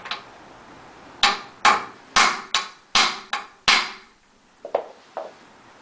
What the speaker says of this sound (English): continue hitting the center of the wheel with the socket